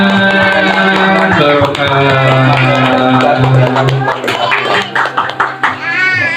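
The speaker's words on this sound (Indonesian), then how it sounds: "Mari kita tepuk tangan." Guests at a Halal bi Halal gathering in a home clap together, the clapping mixed into loud music and crowd noise, with voices heard over it.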